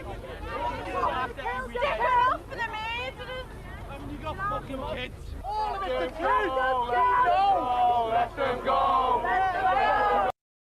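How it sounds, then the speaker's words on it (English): A menacing crowd outside a court shouts and bellows in loud, overlapping angry voices, a dense hubbub of jeers and yells that swells and continues without a break. "A menacing crowd gathered outside the court, waiting for the boys to come out"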